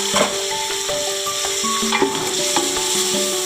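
Chicken frying in a pan as vinegar is poured in, a steady close sizzle broken by scraping stirs and light clinks of a utensil against the pan, with no talking.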